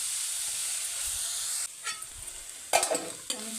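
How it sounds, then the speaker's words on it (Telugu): Ginger fries in a pan for a tribal-style mutton curry: a loud, steady sizzling hiss that drops off midway, followed by close scraping stir strokes against the pan. "కొంచెం అల్లం వేగింది."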